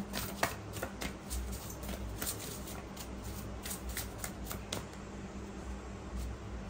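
A deck of tarot cards is shuffled close by in a steady, rapid riffle. The soft papery flutter runs continuously over a faint background hum.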